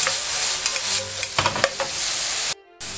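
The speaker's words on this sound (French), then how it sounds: "Je vais commencer par faire revenir mes oignons." Onions gently frying in a knob of butter in a pan over medium heat, a steady close sizzle with a few soft clinks of a utensil stirring, then a brief break in the sound.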